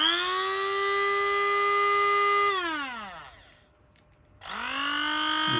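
A stick blender's universal brush motor runs at full speed with a steady high whine, then spins down to near silence and starts up again with a rising whine. No voice is heard over it.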